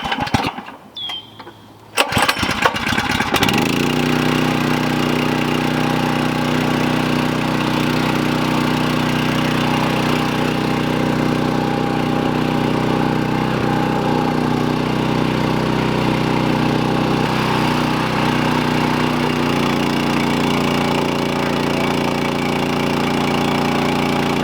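A pull-start gasoline water pump engine at a racetrack: a few rattling sounds and a single pull, then the engine catches and runs at a steady, loud idle drone until the end, with no talking.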